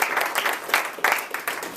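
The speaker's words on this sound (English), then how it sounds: "Round of applause." Board meeting audience gives a round of applause for a lifetime achievement award, a brief patter of clapping with a few louder hand claps standing out, fairly close.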